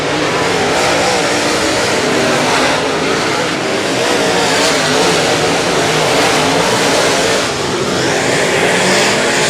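Race cars battle for position on the Super Bowl Speedway track, several engines roaring loudly and continuously at full throttle and close by, with a rising pass sweeping through near the end.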